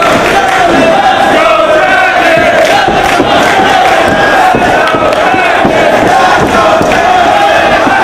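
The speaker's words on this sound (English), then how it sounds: "Crowd now showing their appreciation of both men" A wrestling crowd at the 2004 ROH Glory by Honor III event roars and cheers continuously, loud and near, a thick sustained wall of shouting voices.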